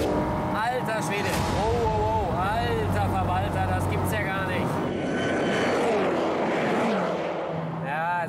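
Chevrolet Corvette accelerating hard in a Germany-versus-USA drag race, loud engine roar with rising tones, heard under excited voices talking and shouting throughout.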